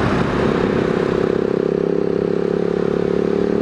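A 2018 Husqvarna 701 SM supermoto being ridden, its single-cylinder engine holding a steady, loud drone close by with a rough, throbbing pulse and no talking.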